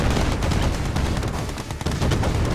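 Gatling cannon defense structures in Red Alert 2 firing a dense, continuous rattle of rapid shots, loud and close, with no talk over it.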